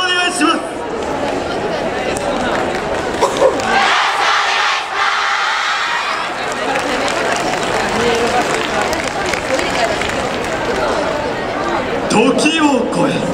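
A large outdoor crowd cheers and shouts for a Kobe University yosakoi dance team at the Ryoma Yosakoi festival, with a dense, continuous roar of voices and whoops sustained throughout and a brief dip midway.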